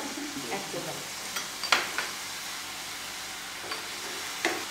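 Tomato, garlic and spices frying in a pan with a continuous moderate sizzle and a few light stirring clinks, close and with no talk over it.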